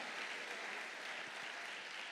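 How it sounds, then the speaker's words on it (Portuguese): A church congregation claps together in steady, dense applause that fills the whole moment, with no voice over it. "Você pode aplaudir ao Senhor?"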